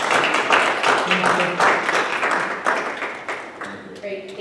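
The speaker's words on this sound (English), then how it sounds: "if you could just give her a round of applause" An audience at a city council meeting gives the auditor a round of applause, dense, steady clapping that stays fairly loud throughout and thins slightly near the end, with no talking.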